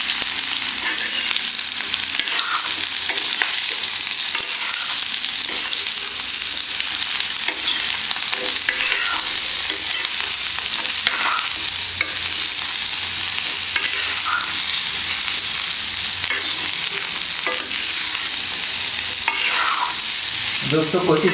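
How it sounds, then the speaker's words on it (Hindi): Pumpkin pieces sizzle and fry in a pan with spices while a spoon stirs them, with a constant loud crackle and occasional scraping strokes against the pan and no talking. "कोशिश कीजिएगा कि हर एक टुकड़ा जो है वो अच्छी तरह से भून जाए"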